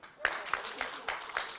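At a Ugandan vocational qualifications results event, a crowd breaks into applause for the ITC, a sudden start followed by steady clapping with a few louder individual claps standing out.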